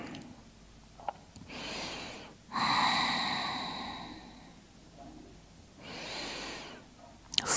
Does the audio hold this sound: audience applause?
no